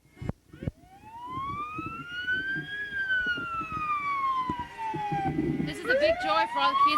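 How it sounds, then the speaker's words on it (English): A fire truck siren wails through a parade, rising and falling in long sweeps with a second siren tone joining near the end, loud and fairly close over crowd noise and a voice talking beneath it. "the fire truck's coming around again now for the second time"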